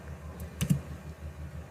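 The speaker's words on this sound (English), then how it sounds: "So I am typing here" A couple of quick keystrokes are tapped on a computer keyboard, faint and close, over a low steady background hum with no voices.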